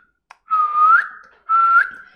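A person whistles two clear, loud sustained notes in a row, each ending in a quick upward slide, heard alone without talking.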